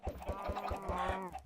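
Chickens clucking in Minecraft, a series of short, evenly spaced clucks and calls close by, with no talk over them.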